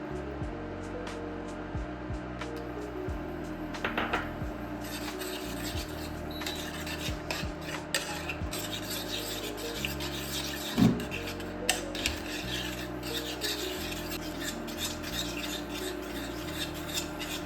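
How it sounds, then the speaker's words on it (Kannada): Steady rasping scrape of a spoon stirring a thick cornstarch mixture in a pan over low heat, continuous and close, with occasional louder knocks against the pan. "ಸಿಮ್ಮಲ್ಲಿ ನಿಧಾನಕ್ಕೆ ಇದೇ ರೀತಿ ಮಿಕ್ಸ್ ಮಾಡ್ತಾ ಇರಬೇಕು"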